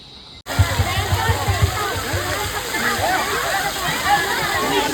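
Water gushes and splashes continuously in a water play area at Namo Grand Central Park in Thane, a dense rushing spray that starts abruptly and holds steady, with voices heard over it.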